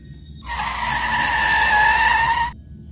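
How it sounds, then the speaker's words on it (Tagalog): A red Honda Civic pulling up outside a condo at night, with a sustained tire squeal lasting about two seconds that rises in and cuts off abruptly over a low engine rumble. "Isang pulang Honda Civic ang pumarada sa tapat."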